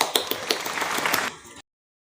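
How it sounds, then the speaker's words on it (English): Students in a classroom giving a short round of applause, a few sharp separate claps first, then a brief scattered patter from many hands that quickly dies away. "Let's round of applause for ourselves."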